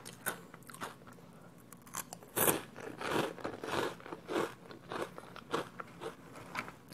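Giant rice crackers and a Chinese pastry crunched up close, loud crisp bites followed by steady chewing crackles over about seven seconds, with no talking.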